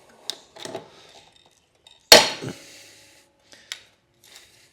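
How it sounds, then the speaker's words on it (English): A pop rivet is set while repairing a part on a Rover 4-stroke Briggs & Stratton 50 key-start lawn mower: one sharp metallic snap stands out among light scraping and tapping of tools, with a few small clicks afterward. "get our pop rivet on this side as well"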